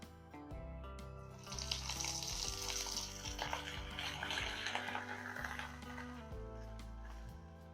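Crushed cardamom and ginger paste fry in hot oil with a steady, moderate sizzle, heard under background music.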